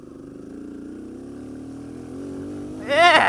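Kawasaki KLX140L dirt bike ridden on a graded road, a steady close engine drone that climbs in pitch and swells into a louder rev at the end.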